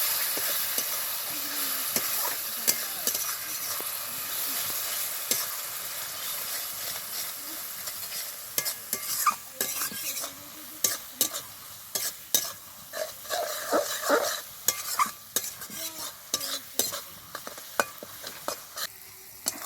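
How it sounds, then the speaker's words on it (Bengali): Spice paste for a Bengali katla fish kalia, with salt and sour yogurt added, fries and is stirred hard in a pan. A steady loud sizzle runs throughout, and in the second half it is punctuated by frequent scraping knocks from the spatula. "এবার মশলাটাকে খুব ভালোভাবে কষাবো।"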